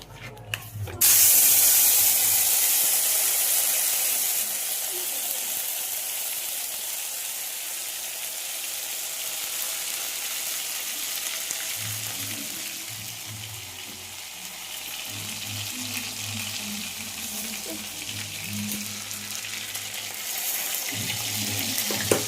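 Spice paste drops into a hot wok with a sudden loud hiss, then settles into a long, steady frying sizzle that continues throughout, with a faint background hum and little talk.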